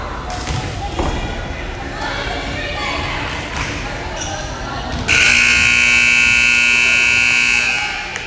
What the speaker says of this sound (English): And here comes the buzzer, and I hate when the buzzer catches me.